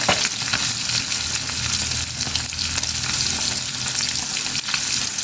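Fish sizzles loudly in hot oil in a frying pan, a dense, crackling hiss that stays steady and close for the whole stretch, with no talking.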